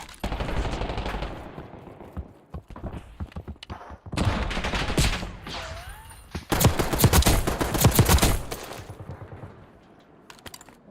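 Video game gunfire erupts in dense rapid volleys, bursts of automatic shots and scattered single cracks across the stretch, with a brief dip in the middle and quieter tail, sometimes under faint voices.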